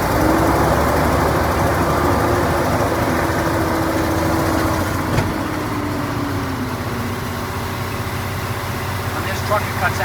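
A heavy truck engine idles steadily and loudly while building air pressure, a continuous low rumble with a faint rising whine, holding unchanged throughout.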